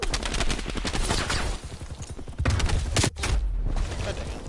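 Rapid marksman rifle fire in a zombie video game, loud dense bursts of shots back to back with brief lulls, sharp cracks layered over game noise and a voice talking underneath.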